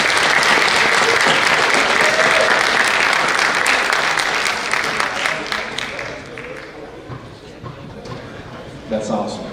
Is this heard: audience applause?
yes